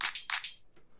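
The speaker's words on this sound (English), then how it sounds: "and this hat" Three bright, hissy hi-hat hits from a sample in a tropical pop house track, arriving in quick succession and each ringing briefly before a faint, fading tail.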